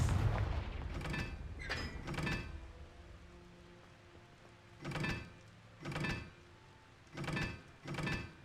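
Confringo blasting spells go off in a Harry Potter video game, a series of booming blasts arriving in pairs with quiet gaps between, fairly close and distinct.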